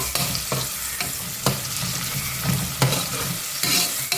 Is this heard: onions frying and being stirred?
yes